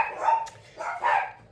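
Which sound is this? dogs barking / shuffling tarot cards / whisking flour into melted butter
dogs barking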